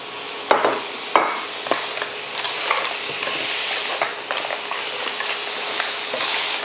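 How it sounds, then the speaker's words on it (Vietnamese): Snails stir-fried with pineapple and horn chili in a hot pan, a steady sizzle and frying hiss with sharp scrapes and clacks of the utensil at irregular moments, close and clear, no voices. "chúng ta sẽ cho dứa vào xào cùng"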